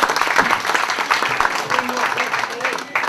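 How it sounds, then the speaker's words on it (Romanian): An audience at a children's Christmas carol performance in Fetești claps warmly, moderately loud, with scattered individual claps and faint voices murmuring under the applause. "vă rog să aplaudați"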